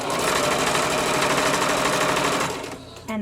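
Domestic sewing machine stitching and backstitching on a child's costume, a fast dense mechanical rattle running steadily up close for a few seconds, then stopping abruptly with a short clunk.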